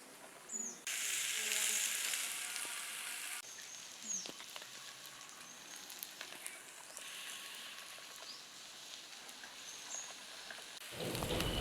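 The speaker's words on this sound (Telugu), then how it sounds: "ఆనియన్స్ని బాగా ఫ్రై చేసుకోవాలండి." Onions frying in a clay pot over a wood-fired stove for chicken biryani, giving a steady crackling sizzle that comes and goes in loudness, with faint clatters throughout.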